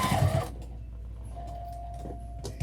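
A sewing machine stitching a vinyl tote bag hums softly for a couple of seconds, putting in a short run of stitches after a brief clatter, quiet and close with no voices.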